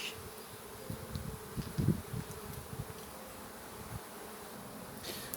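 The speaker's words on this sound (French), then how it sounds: "il y a une abeille qui est en train de sortir" Honeybees hum in a steady, low buzz around a worker bee emerging from its capped cell, with a slightly louder swell near the middle and a continuous drone throughout.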